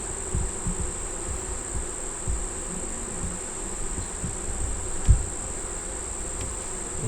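Honey bees swarm around an open hive with a frame lifted out, making a steady, close, high buzzing drone over a low background hum, broken by occasional soft clicks and a brief thump.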